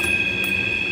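A train rolls past with a steady rumble and a high metallic squeal from the wheels, close by and continuous.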